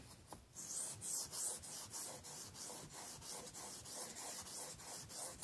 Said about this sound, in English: It does take a hot minute to sharpen a knife.